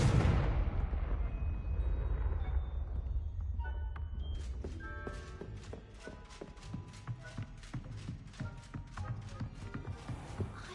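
A Confringo fire spell explodes in Hogwarts Legacy, opening with a loud, broad blast that rumbles and fades over several seconds, followed by crackling debris and rapid clattering hits.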